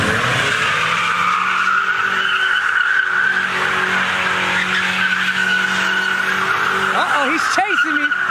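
A Ford Mustang skids at a huge car meet, its tires squealing loudly and continuously under engine roar, with sharp, wavering chirps near the end.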